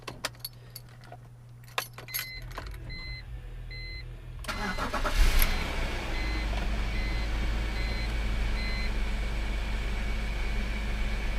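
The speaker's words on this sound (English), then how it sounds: "I'm gonna go ahead and do a cold start." A BMW E46 car gets a cold start: keys jingle and soft warning chimes sound, then the starter cranks briefly and the engine catches into a steady, loud, close idle that continues to the end.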